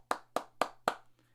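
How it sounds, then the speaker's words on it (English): Four sharp claps, evenly spaced, ring out at a women's college basketball game after an Ohio State player passes a scoring milestone, followed by a faint fifth clap. The clapping is close and isolated, with no crowd applause around it. "So let's give her a round of applause."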